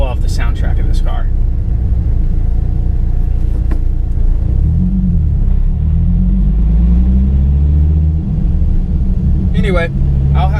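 A Dodge Viper with a big engine and manual gearbox rumbles loudly at close range, its deep exhaust note rising and falling through revs while someone talks over it at the start and end.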